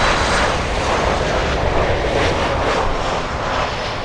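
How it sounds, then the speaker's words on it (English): A Boeing Dreamliner jet airliner arriving from Madrid at Miami airport produces a loud, continuous broadband engine roar that stays steady throughout. "Dreamliner from Madrid."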